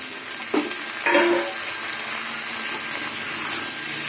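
Potatoes drop into a pan of frying onions with a couple of brief thuds, then a steady, close hissing sizzle continues throughout.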